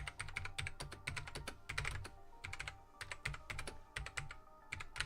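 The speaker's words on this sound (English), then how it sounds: "I love the sound of this keyboard." Rapid clicking keystrokes on a computer keyboard during an art stream, coming in quick bursts with short pauses, fairly close and steady with no talk.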